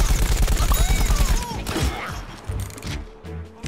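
Rapid gunfire rattles in Plants vs. Zombies: Garden Warfare, a fast burst of loud shots that breaks off into scattered impacts and thuds.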